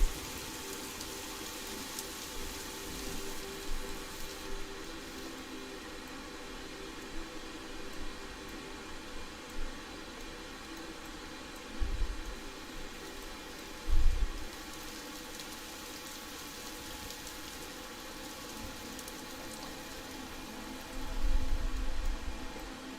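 Steady rain hisses over a Planet Zoo crocodile habitat, an even wash of patter with a few soft low thumps; no one speaks.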